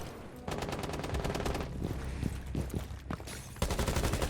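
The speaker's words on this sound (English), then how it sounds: "I'm hearing gunshots over by penthouse side" Rapid bursts of automatic gunfire crackle in quick succession in Rainbow Six Siege, with a few louder single shots mixed in, dense and fairly close throughout.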